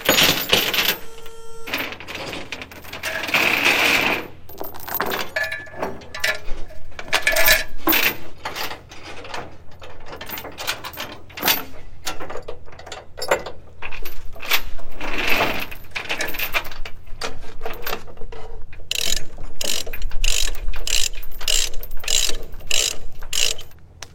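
Rusty chains rattle and clink while a load is strapped down for a road trip, with dense, close metallic clatter and ratchet-like clicking that runs steadily throughout.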